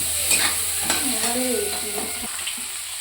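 Chicken meat stirred and fried in a pan with water mixed in, a steady sizzle broken by repeated scraping stirs of a spoon against the pan, close and fairly loud, with no talking.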